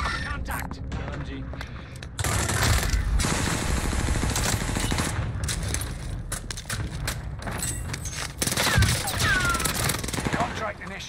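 Light machine gun fire in a video game: dense bursts of rapid gunshots run loud and near almost throughout, layered with other battle noise.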